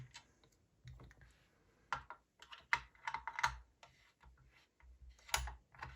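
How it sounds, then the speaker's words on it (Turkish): An old hand vacuum cleaner being opened with a screwdriver, heard as scattered quiet clicks and sharp plastic ticks close by, in irregular bursts with short pauses between. "İlk biz tornavidayla açıyoruz şimdi."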